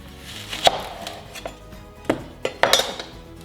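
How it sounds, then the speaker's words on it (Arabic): Yellow onion is chopped on a board and carrots are handled in a kitchen, giving scattered sharp knocks and clinks of a knife, spaced irregularly and fairly close, with no talking. "بقطع البصل الأصفر لقطعة صغيرة، باخد الجزر وبقشره"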